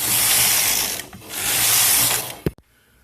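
Punch card on a Studio SK360 knitting machine being rolled back, a loud ratcheting, clicking mechanical rattle that runs in two bursts with a short pause between, ending in a sharp click and then quiet.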